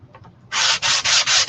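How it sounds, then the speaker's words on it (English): Sandpaper is rubbed by hand over a painted wooden clipboard in four quick, loud, close strokes, each a rasping scratch with short gaps between, after a few faint light touches. "But I do want to sand it."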